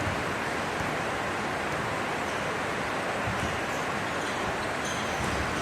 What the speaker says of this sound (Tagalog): napakalakas kasi maririnig mo yung patak ng ulan dito sa bubong ng covered court